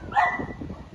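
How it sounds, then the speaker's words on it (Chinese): Dogs at a mountain dog base in the rain give a short, lively bark and yelp near the start, then a low murmur of the wet yard continues underneath. "下雨了，今天狗狗开心的很，热闹的、开心的，嗡嗡的叫"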